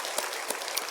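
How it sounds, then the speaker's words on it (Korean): A congregation applauds inside a church during a sermon, dense crowd clapping throughout with a few louder bursts standing out. "박수를 드리겠습니다."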